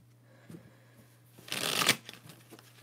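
Tarot card decks being shuffled close by, a soft riffling burst that builds and fades over a low steady hum, with no talking.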